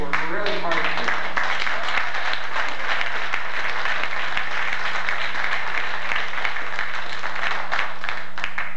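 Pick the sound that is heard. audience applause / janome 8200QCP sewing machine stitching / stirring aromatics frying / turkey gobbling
audience applause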